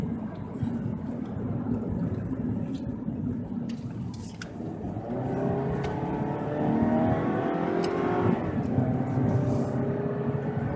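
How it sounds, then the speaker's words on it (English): A car drives along a 55-mph road, its engine and tyre roar a steady close drone that rises a little as it speeds up, with a tonal whine coming through in the second half. "We're traveling on a road that's meant to go 55 miles an hour."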